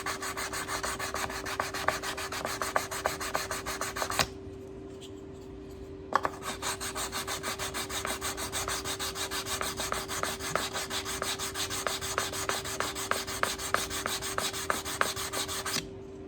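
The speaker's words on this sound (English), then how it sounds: "just a little bit of sanding." Sandpaper rubs back and forth over a carved wooden brace for a guitar's back in quick, steady strokes, close and constant, with a short pause partway through before the rasping resumes.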